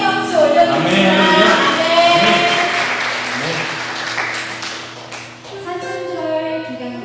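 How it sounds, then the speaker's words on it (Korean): A church congregation at New Life Church in Clark, Philippines claps steadily in praise to God, a continuous wash of applause mixed with lingering musical tones and voices. "주님께 영광의 박수 올려드립니다."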